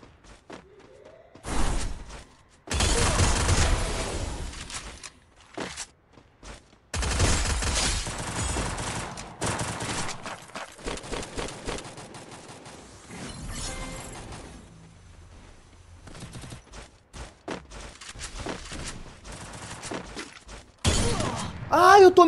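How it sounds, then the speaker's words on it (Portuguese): Counter-Strike ranked match gunfire: loud bursts of rapid shots and clattering impacts in several separate bursts, with gaps between them and a player talking at times. "Eu tomei um tiro que não era meu."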